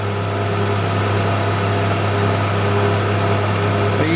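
A small Bassett end mill cuts metal on a milling machine with a steady, continuous droning hum and whine, loud and unbroken throughout, with no talking.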